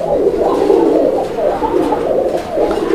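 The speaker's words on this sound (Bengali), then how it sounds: "নটটার ডাকটা আমরা আপনাদেরকে একটু প্রপারলি দেখানোর চেষ্টা করতেছি" A big male pigeon from a breeding pair coos in repeated low, throaty rolling calls, close and fairly loud, one phrase following another with little pause.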